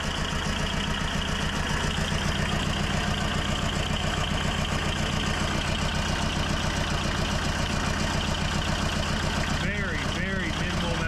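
A worn-out tracked dumper's engine idles steadily as it warms up, with a loud, constant low rumble and no change in pace. A voice speaks briefly near the end.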